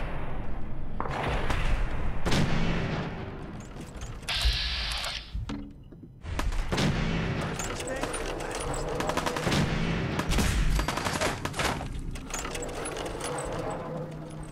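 Bursts of automatic gunfire and single shots in a Fallout 4 firefight, loud and close, coming in clustered volleys with brief pauses and mechanical clicks between them.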